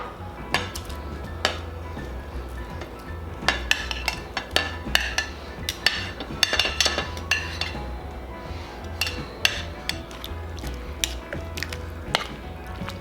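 Chicken taco filling scraped back into a crock pot, with repeated clinks and scrapes of a utensil against the pot and dish in an irregular rhythm, close up, with no talking.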